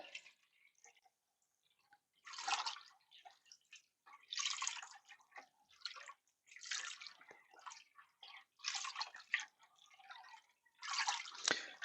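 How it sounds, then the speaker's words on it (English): A turbo yeast liquid wash is stirred, giving soft, close sloshing and swishing strokes in an irregular rhythm with quiet pauses between them. "Give it a little bit of a stir."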